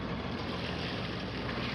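A sailboat engine runs at 1800 RPM under way between Ardglass and Glenarm, a steady low rumble blended with rushing water and wind, constant and unbroken.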